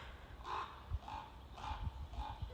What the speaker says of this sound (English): I think that's a geese, possibly.